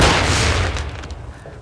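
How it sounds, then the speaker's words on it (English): Loud close blast of a flash grenade going off in Call of Duty MW3, a broad booming burst that rings out and fades over about a second and a half, no talking. "Throwing flash grenade!"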